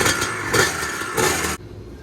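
A Honda CR250 two-stroke engine on a modern ATC250R-style trike runs loudly and close, rising in two revs before cutting off abruptly.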